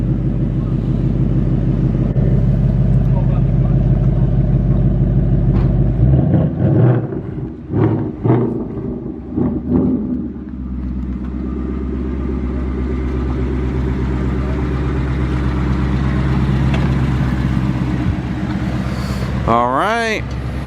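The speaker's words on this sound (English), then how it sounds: "What I like about this mod, it sounds clean. It's not raspy. It's got a nice guttural sound to it." A modified Ford Mustang's exhaust at idle, a deep guttural rumble punctuated by several sharp revs in the middle before it settles back to a steady drone, with people talking nearby.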